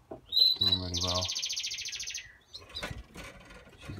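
Harlequin canary chicks chirp in a breeding cage, giving a buzzy trill and rapid tweets close by, fading into softer, scattered chirps and cage rustling.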